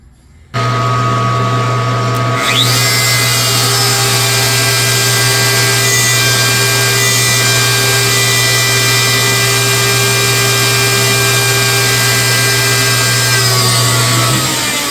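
A lathe with live tooling cuts a tenon on a pool cue joint, starting abruptly into a loud, steady motorized whine with a low hum that holds throughout, with no talking.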